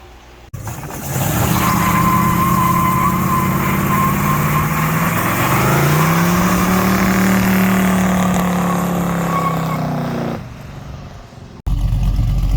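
A car engine with a carburetor idles and revs in a home shop after rear brake and gear swap work, running loud and steady for about ten seconds with a slightly uneven, sputtery note, then cutting back.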